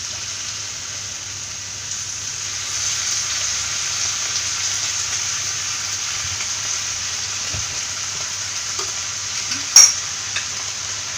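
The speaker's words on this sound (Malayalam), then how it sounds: "ഇനി ഇതിലേക്ക് 2 സ്പൂൺ സോയാ സോസ് ചേർത്ത് കൊടുക്കാം." Egg hakka noodles stir-frying in a pan as soy sauce goes in, a soft steady sizzle with faint scraping and a few light clinks of a spoon against the pan.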